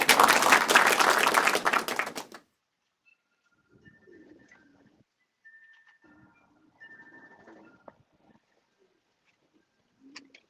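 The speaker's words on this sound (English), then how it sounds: "Everybody give Mike Vandriak a big round of applause for making it to the breaking" Applause breaks out at a racing pigeon club meeting, a dense two-second burst of clapping that stops abruptly, followed by quiet pigeon coos and scattered faint chirps in a still room.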